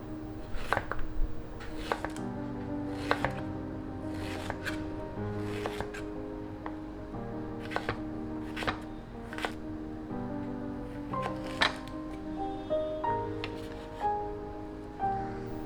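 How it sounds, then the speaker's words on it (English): A knife slices peeled ginger into thin slices on a board, making crisp separate cuts in an uneven rhythm, close and fairly quiet, with faint background hum. "Start by removing some of the skin on the ginger. Then cut into thin slices."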